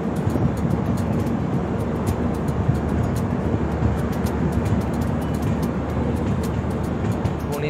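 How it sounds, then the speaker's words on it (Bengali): Inside the moving Kolkata–Jammu Tawi Express, a loud steady rumble of wheels and carriage fills the whole stretch, with quick rhythmic clicks and rattles running over it. "কুলটি থেকে আমাদের ট্রেন ছেড়ে দিয়েছে"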